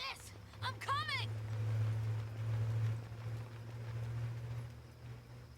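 A very loud motorcycle passing outside, caught as a low steady engine drone that swells and fades over several seconds beneath game sounds and a voice.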